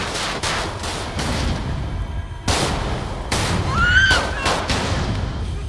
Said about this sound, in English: Wouldn't you, like, not go towards the gunfire, Julian?